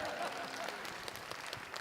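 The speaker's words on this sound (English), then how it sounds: "You clap when someone says that?" An audience at a theatre Q&A for Kneehigh's 946 claps in a brief, fairly soft burst of applause, with a voice speaking over it.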